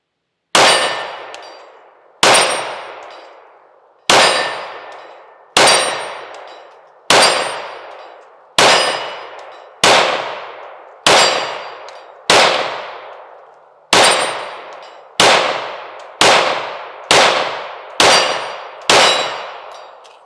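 Pistol shots from an XD Mod 3 each ring a distant steel target, a dozen crisp clangs with long ringing decays, spaced evenly at first and then fired in quicker succession.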